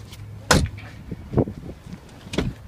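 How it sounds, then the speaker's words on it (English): A folding seat in a 2014 Dodge Grand Caravan SXT Plus Black Top Edition minivan is lifted back into place, giving a few sharp, close clunks and latching thuds with quiet rustling between them. "I'm just gonna fold that seat back up"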